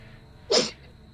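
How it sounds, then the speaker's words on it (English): One sharp, forceful human sneeze bursts out in a quiet room, a brief loud explosive burst with faint background hiss and no talk around it. "Bless you, whoever sneezed violently"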